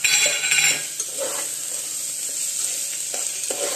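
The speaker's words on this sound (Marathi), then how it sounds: "1-2 मिनिटं चांगलं परतून घेऊया।" Turmeric, chutney and spices sautéing in a pan for a village-style sandge curry, a loud sizzle at first that settles into a steady frying hiss with a few soft stirring scrapes.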